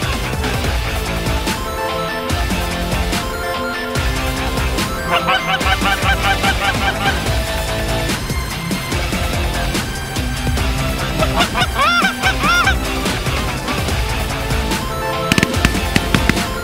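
Geese honk in a loud, dense, continuous chorus, with overlapping calls layered throughout, heard during a Montana waterfowl hunt.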